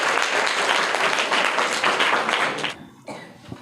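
Audience giving loud applause at a children's quiz competition: dense, sustained clapping from a room of people that fades out near the end, leaving a few scattered claps.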